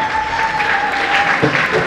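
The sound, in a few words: applause for a school leader at a graduation ceremony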